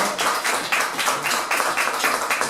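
A church congregation claps together during a Spanish-language worship service, a steady dense patter of many hands held at even loudness throughout, with no voices over it.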